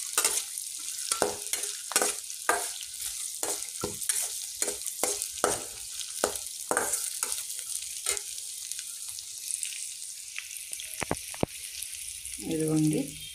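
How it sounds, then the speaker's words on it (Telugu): Peanuts fry over a low flame in a pan for a samalu upma, with steady sizzling broken by repeated sharp scrapes and clinks of stirring, close up, and a brief voice near the end. "ఇదిగోండి ఇది ఇలాగా లైట్గా చిన్న అగ్గి మీద వేసుకుంటున్నానండి. పల్లీలు ఇవన్నీ ఆగాలి కదండి,"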